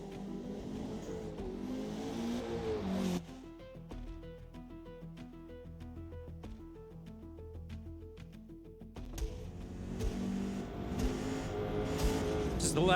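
A Nissan GT-R races around Laguna Seca in a racing video game, its engine roaring loud and steady, dropping away midway while melodic tones play, then revving back up to full volume.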